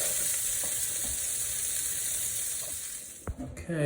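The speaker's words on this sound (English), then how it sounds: "In go my green beans and those diced hot peppers" Green beans and diced hot peppers frying in olive oil, a bright, steady sizzle with occasional clicks, fading slightly before a couple of sharp knocks at the end.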